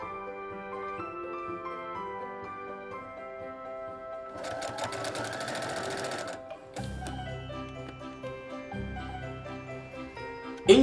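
A sewing machine stitches bias binding around the rounded top edge of a baby bib, a brief steady run of stitching under soft background music and handling sounds.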